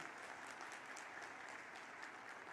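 Crowd at a political rally in Gwalior clapping continuously, a thick even wash of many hands at moderate distance, sustained without a break and no speech on top.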